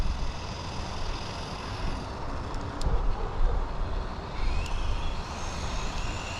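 A DeAgostini Subaru WRX RC rally car with a faulty ESC that cuts out at top speed drives along with a steady broadband rumble of motor and tire noise. The level rises and falls slightly, and there is no talking.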